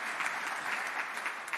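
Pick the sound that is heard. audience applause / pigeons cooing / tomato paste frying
audience applause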